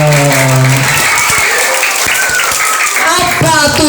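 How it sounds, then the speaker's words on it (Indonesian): Participants at an Islamic youth study session clap loudly together, an energetic burst of applause with voices talking and calling out over the clapping. "Tepuk tangan sekali lagi."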